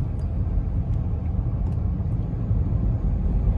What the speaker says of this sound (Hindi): अभी मैं और दे रहा हूँ एक्सेलेरेटर